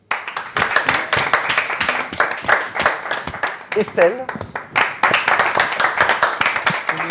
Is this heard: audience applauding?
yes